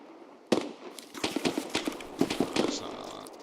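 Distant gunfire in Escape from Tarkov: a burst of sharp, irregular cracks and pops spread over a few seconds, some clustered in quick runs, at moderate level against a steady background hiss.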